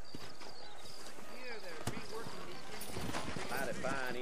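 Horse hooves clip-clop in the Western video game Red Dead Redemption, set in New Austin, as a steady rhythmic patter under ambient sound and a horse whinny, with people talking over it.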